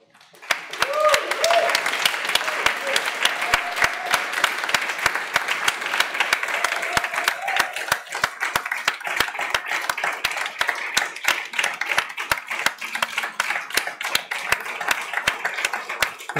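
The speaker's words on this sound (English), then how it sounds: "now I want to hear the biggest applause of all" Sustained, dense applause from an audience at a student technology pitch competition closing, a steady roar of many hands clapping at full volume for the whole stretch, with no voices above it.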